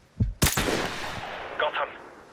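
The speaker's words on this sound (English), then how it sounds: "We open fire, shooting anyone that enters our crosshairs" Sniper fire in the Call of Duty game: one sharp, loud gunshot crack with a long decaying echo tail, followed by a couple of fainter mechanical clicks from the rifle.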